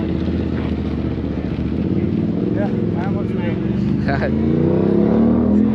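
A motorcycle engine runs steadily and close by at a Valley Run motorcycle event in India, a constant low rumble with voices talking over it throughout.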